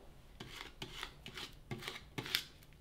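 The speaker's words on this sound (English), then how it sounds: "I guess I'll like lightly use my scraper tool." Scraper tool dragged over vinyl on a cutting mat in short, repeated rasping strokes, about five close scrapes at an uneven rhythm, nearby and moderately loud with no talk.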